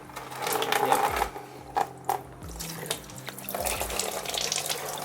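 Coolant gushes and splashes from a busted radiator on a KLR650 motorcycle, a steady liquid pour and spatter with brief louder surges, close by and without talk.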